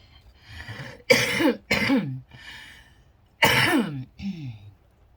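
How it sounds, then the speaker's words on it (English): Several harsh coughs in short bursts, close up, separated by brief pauses, with a softer throat-clearing cough between them. "Excuse my cough."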